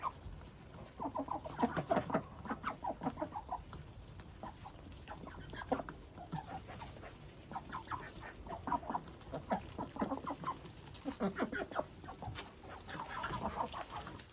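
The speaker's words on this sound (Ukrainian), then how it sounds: "Подивіться, з яким задоволенням вони їдять корм, який я їм готую." Mulard ducks on a small backyard farm eat feed of boiled potatoes mashed with wheat bran, giving off repeated soft quacks and clucking calls in uneven bursts over quiet scraping and pecking.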